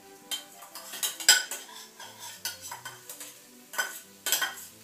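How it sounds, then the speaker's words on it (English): Rice gets stirred in a hot pan with a metal utensil, a series of irregular scraping clinks and knocks against the pan over a soft sizzle, fairly close and alone. "Mix it about a bit"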